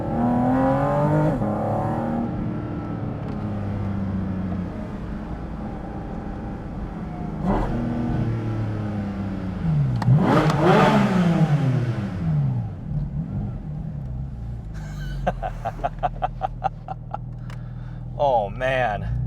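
A Porsche GT4 RS engine revs and climbs through gears on paddle-shifted dual-clutch changes, loud and close, with sharp rising sweeps and a burst of crackling pops near the end; someone talks over it.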